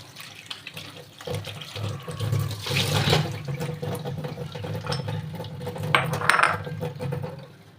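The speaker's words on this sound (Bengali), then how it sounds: "আর এখানে কাঁকরোলগুলো ধুয়ে নেব।" Running tap water splashes over spiny gourds being rinsed in a kitchen sink, a steady gushing stream with brief handling noises and louder splashes as the vegetables are turned.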